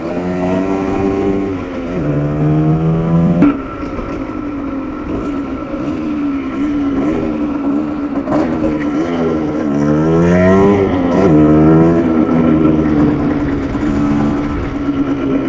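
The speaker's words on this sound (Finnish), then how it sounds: "kato kun mä oon mopolla" A moped rides along at night with its engine loud and close, revving up and down through repeated rising and falling pitch sweeps over about fifteen seconds.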